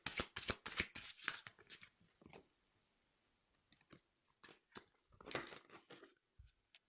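Tarot cards being shuffled and drawn, bursts of crisp riffling and slapping close up in two clusters separated by a quiet stretch with scattered light taps.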